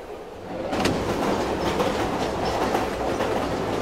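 Steady rumble of a moving train with rhythmic clickety-clack of wheels over rail joints in Silent Hill 3, loud and continuous after a brief softer start.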